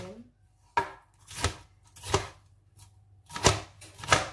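A knife chops eggplant and bell pepper into cubes on a cutting board, with about six distinct, moderately loud thuds at an uneven pace in a quiet kitchen.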